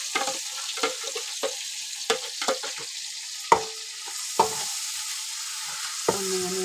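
A ginger, garlic, mint and coriander paste fries in a pan, with a steady soft sizzle broken by repeated scraping stir strokes and the occasional sharper clink, close up and without talk.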